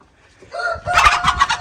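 Rhode Island Red hen giving a brief burst of loud clucks close by, a few sharp squawks in quick succession.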